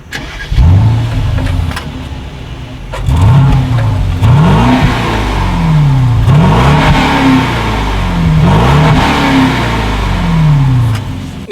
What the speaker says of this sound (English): So as always, you guys, here is that exhaust clip.